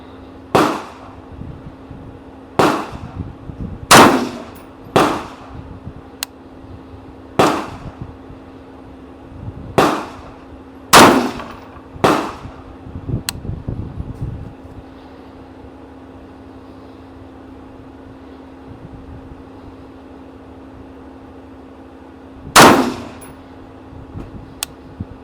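Rifle shots from a gas gun fired in a slow series at steel targets, roughly ten sharp loud reports with brief ringing decay, spaced a second or two apart, then a pause before one more shot near the end.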